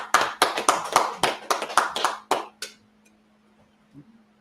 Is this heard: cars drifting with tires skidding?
no